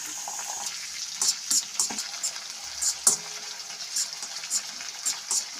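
Sauce mixture poured onto onions frying in a pan, a steady soft sizzle broken by repeated short spattering bursts and scraping stirs, with no one talking.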